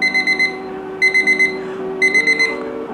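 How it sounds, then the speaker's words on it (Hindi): An HSETIN DT-1045 digital countdown timer sounds its alarm: loud, shrill electronic beeps in quick bursts of four or five, repeating about once a second, up close and with no voices. "ये जो इसका टाइमर प्ले हो रहा है इसकी साउंड काफी ज्यादा लाउड है"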